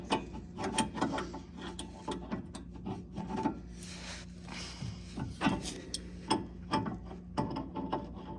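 A ratchet loosens a suspension nut on a Shelby GT500KR during a Pedders coilover install, giving close, repeated bursts of rapid clicking with short pauses between strokes.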